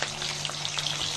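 Onion and ginger paste sizzling in hot oil, a steady crackling fry with scattered pops running throughout, close and fairly quiet.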